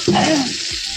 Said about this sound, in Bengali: এটা আস্তে আস্তে করে এইভাবে নাড়তে হবে আর তেলটা বেরিয়ে আসবে